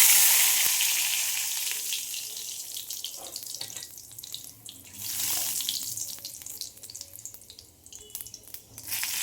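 Panch phoron spices hit hot oil in a wok, starting with a loud close sizzle that slowly settles into a softer, crackling fry, with no talking.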